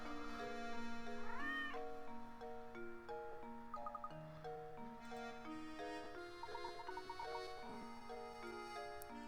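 A cartoonish cat meows with a rising, bending cry inside a Professor Layton puzzle adventure game, set against light plucked game music with ticking clock-like notes.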